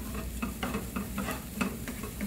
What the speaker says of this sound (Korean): 버터 넣고 다시 조금 더 볶겠습니다